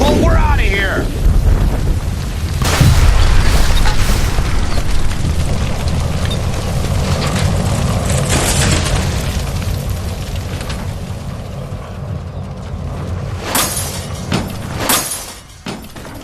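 Gas line blowing up inside a building in the 1940s Los Angeles detective game L.A. Noire, a heavy boom followed by crashing debris and a sustained rumble, with shouted voices over the din.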